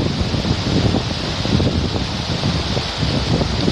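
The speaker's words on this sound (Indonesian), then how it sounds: "Anginnya juga sangat kencang" Strong wind blows across an exposed spot on Mount Sunda on a clear dry-season day, a loud, continuous broadband roar and buffeting that rushes across the microphone, with no voices.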